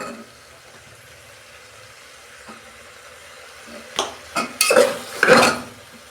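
Vegetables and chicken stirred in a frying pan: a faint sizzle at first, then several loud scraping spatula strokes and clatters close by toward the end.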